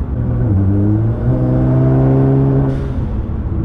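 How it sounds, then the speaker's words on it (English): A twin-turbo car engine revs and pulls hard under acceleration in fourth gear as boost builds, rising in pitch, loud and close, ending with a quick hiss from the blow-off valves. "Drop it down into 4th gear at 50 miles an hour, just let the boost build, and then it just pulls"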